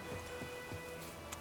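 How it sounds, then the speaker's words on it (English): Steady rain falls in The Witcher 3 around White Orchard, a soft, even hiss of drops throughout with faint low rumbles beneath, no talking. "It's raining"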